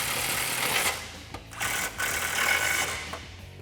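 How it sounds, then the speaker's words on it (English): A 13mm socket ratchet tightens the exhaust clamp bolts on a 2018-2020 Mustang GT cat-back exhaust, giving a steady close rasping ratchet buzz that runs almost without a break, with brief pauses between strokes. "Grab your 13mm socket, and again, I like to use the extension and go over the sway bar and tighten them down."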